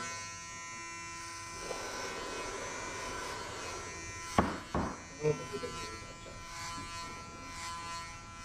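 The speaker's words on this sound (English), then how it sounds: "Next step, put number 4 on a clipper and shave everything off." An electric hair clipper fitted with a number 4 guard buzzes steadily while shaving a head for a buzz cut, a close, continuous hum with a few brief scraping bumps partway through.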